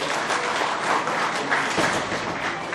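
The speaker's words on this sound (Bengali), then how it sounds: "তাদের জন্য একটি হাততালি দিবেন" An audience at a Bangladesh Society of Montreal Victory Day celebration breaks into dense, steady applause, many hands clapping together at close range for a few seconds.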